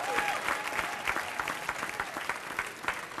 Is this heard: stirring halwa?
no